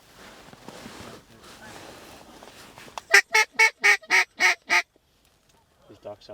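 Ducks at a late-season hunt give a burst of about seven loud, evenly spaced quacks close by, following a stretch of quiet murmuring and rustle, then fall silent with a faint call at the end.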